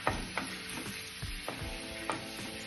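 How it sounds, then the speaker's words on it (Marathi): Chopped onion sautéing in a pan for masala Maggi, a steady close sizzle broken by several sharp scrape-and-stir knocks of a spatula against the metal, with no talking. "कांदा छान गोल्डन ब्राउन होईपर्यंत परतून घ्यायचा आहे।"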